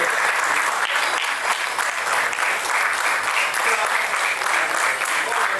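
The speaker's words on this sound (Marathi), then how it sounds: "टाळ्यांचा गजर प्रकाशन सोहळा संपेपर्यंत आपण चालूच ठेवला पाहिजे" A hall audience claps continuously at a book launch ceremony for a book on Rajarshi Shahu and Dr. Babasaheb Ambedkar, a loud, even wall of applause that never lets up.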